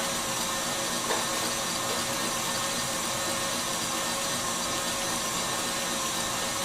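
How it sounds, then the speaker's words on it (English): An electric whisk beats a lemon drizzle cheesecake mixture in a kitchen, giving a loud, continuous motor whine and whirr that holds steady without pause, no voices over it. "I would lift the whisk up, let's have a look. Because you could be beating for a long time."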